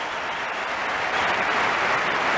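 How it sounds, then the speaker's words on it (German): A sold-out crowd of 9000 claps in a steady, dense roar of applause inside the Frankfurt Festhalle at a 1992 tennis final, loud and continuous throughout. "Und 9000 Zuschauer in der ausverkauften Frankfurter Festhalle gingen begeistert mit."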